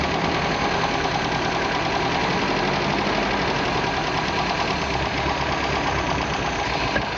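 MG engine with HIF carburetors running on choke during tuning, a steady close idle with a dense, even mechanical chatter and no change in speed.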